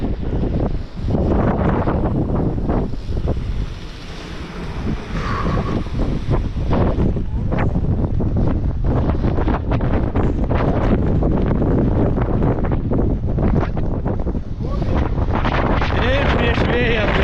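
Heavy gusts roar into the microphone as a mountain biker pedals headlong against the wind on Holyhead Mountain, Anglesey, the loud rumbling buffeting continuous throughout with brief crackling bursts.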